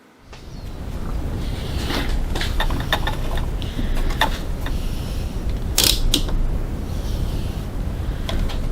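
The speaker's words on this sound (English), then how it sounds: "we're going to go over to the sewing machine and we're going to top stitch on the bottom side only" A sewing machine top stitching fabric for a crossbody bag runs in a steady mechanical whir, with clicks and creaks over it, close and continuous after a short quiet start.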